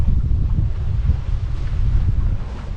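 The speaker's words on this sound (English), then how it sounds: "strangely the wind has decided to pick up now" Gusty wind roars over the microphone aboard a sailboat near the Scottish isles, a loud continuous low buffeting with rushing water faintly beneath, no voices.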